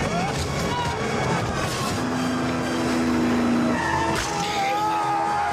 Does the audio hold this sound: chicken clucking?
no